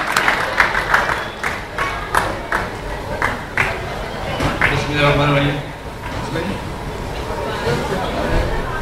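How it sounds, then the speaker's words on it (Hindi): Audience applause for Nadeem Sir at a Diwali gathering, scattered claps giving way to a fuller burst of clapping with murmuring voices around it, moderately close and mixed with talk. "नदीम सर के लिए बहुत सी तालियां।"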